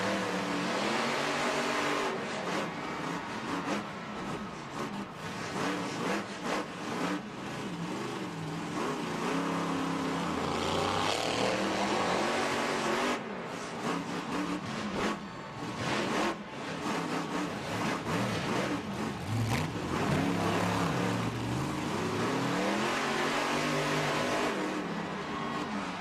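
A monster truck engine at a Monster Jam freestyle show in an Atlanta stadium roars and revs hard in repeated surging bursts, loud and continuous, with crowd and arena noise underneath.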